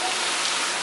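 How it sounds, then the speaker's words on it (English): Heavy rain pours down steadily in a cold, windy storm on a night of tornadoes, a dense, even hiss that runs loud and unbroken for the whole moment with no other sound standing out. "It's cold, windy, and it is raining like crazy."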